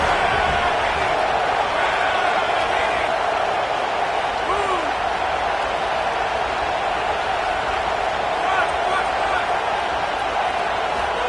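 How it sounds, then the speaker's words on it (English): Home crowd in the NCAA football video game roaring and cheering without pause, a dense, loud wash of noise that holds steady throughout, with voices faintly present underneath. "how nice is it to have the home crowd going absolutely bananas?"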